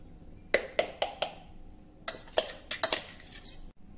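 Ground roasted powder being tipped into a large metal plate, giving a few crisp metallic knocks and clanks in two short bursts, close and fairly loud with quiet gaps between.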